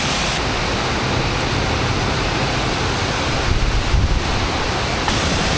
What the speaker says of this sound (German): Das ist die coole Aussicht auf den Wasserfall.